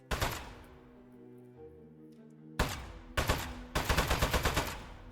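Video game gunfire: a sharp opening shot with a ringing decay, then after a quiet pause several loud bursts of rapid automatic fire, close and punchy, with no talking.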